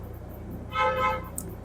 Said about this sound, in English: Why do people honk so much?